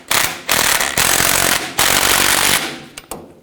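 A power tool with a 16mm socket snugs a tie rod adjusting sleeve on a 1992-or-later Ford E-series van. It makes loud, close, rattling hammering bursts, three long runs followed by a few short taps.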